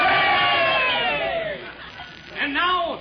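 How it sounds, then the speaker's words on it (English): A cheering section in a radio show yells together in a loud group cheer that fades, then a second rising shout follows, close and forceful. "And now, the Meatball cheering section."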